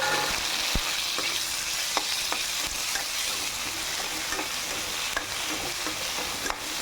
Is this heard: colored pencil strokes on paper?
no